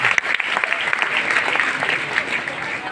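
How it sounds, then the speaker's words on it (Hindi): An audience at a large DXN company event applauds loudly with dense, steady clapping and a few cheers. It continues throughout without a pause. "आप सभी के लिए जोरदार तालियां।"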